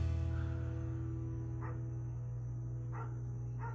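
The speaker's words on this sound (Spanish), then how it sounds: "El perro está muy nervioso y está ladre y ladre y ladre." A nervous dog barks a few times, a short yip followed by a pair of barks, somewhat distant and faint over a loud steady electrical hum, with no talk.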